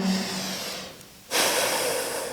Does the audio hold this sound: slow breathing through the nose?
yes